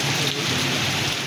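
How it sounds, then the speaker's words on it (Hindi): Steady rain falling across a mountain region in winter weather, a dense continuous hiss of drops with no voices, loud and even throughout the short stretch. "अपर और लोअर चतराल में बारिश और बर्फबारी का सिलसिला जारी है।"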